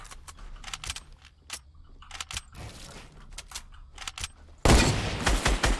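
Rapid bursts of gunfire from the battle royale video game Fortnite, crackling shots repeating through the clip and swelling into a loud, dense volley near the end.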